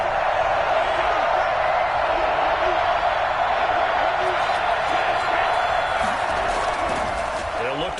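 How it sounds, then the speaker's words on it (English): A Seattle home crowd at a Thursday night football game roars as a loud, sustained and unbroken din, holding steady throughout. "That just means this crowd's going to get even louder."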